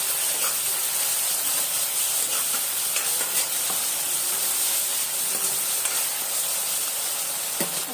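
Masala stirred into browned onions in a hot pan for a ridge gourd and chana dal curry, giving a steady, close hiss of frying with scraping stirs and occasional crackles throughout.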